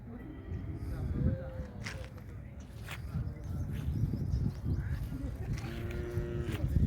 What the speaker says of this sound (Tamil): பாருங்கள் மக்களே காராம்பசு காளை.